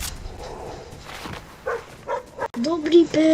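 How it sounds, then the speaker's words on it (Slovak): A dog barks in a battle royale video game, short yelping barks mixed in with a player's excited talk over game noise. "Dobrý pes."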